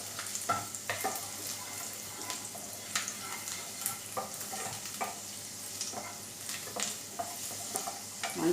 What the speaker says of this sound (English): Saute them so that the raw flavor goes off